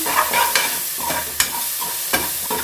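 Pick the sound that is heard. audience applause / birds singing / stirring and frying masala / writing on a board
stirring and frying masala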